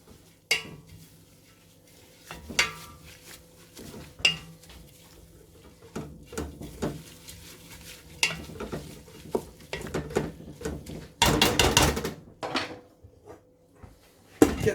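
A spoon stirring a pot of wild food with hawthorn, scattered metallic clinks and scrapes against the pot, sparse at first and then a burst of rapid clattering near the end, close and fairly loud.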